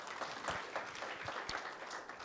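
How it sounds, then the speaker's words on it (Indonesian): Audience applause in a church, a continuous wash of many hands clapping that stays fairly even in loudness, with a few sharper claps standing out. "Beri tepuk tangan yang meriah begitu"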